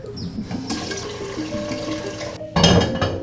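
Water runs steadily for a few seconds, then surges louder and fuller, pouring into a large pot nearby for coffee dyeing.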